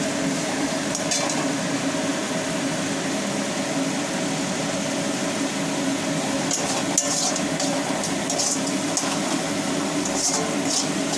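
Spice paste sautéing and being stirred in a pan, a steady close sizzle with scraping and occasional spoon clinks against metal throughout.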